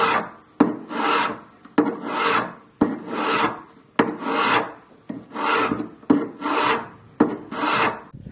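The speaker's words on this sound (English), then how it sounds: "tilt your file and simply go round like this" A hand file rasps around a wax ring blank in jewellery making, producing eight steady back-and-forth scraping strokes, each a gritty rising-and-falling rub separated by a brief click, close and alone.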